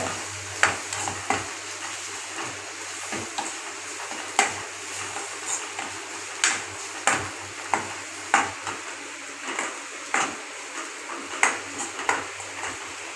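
Masala for beef gravy is stirred in a pan under a low sizzle, with a spoon clinking and scraping against the metal in an irregular rhythm.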